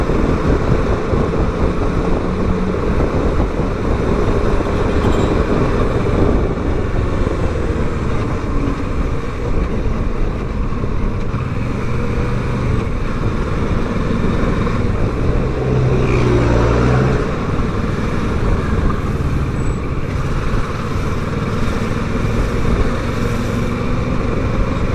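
A Triumph Street Triple 765 RS streetfighter motorcycle riding on the road, its engine a steady loud drone with wind rush, continuous throughout.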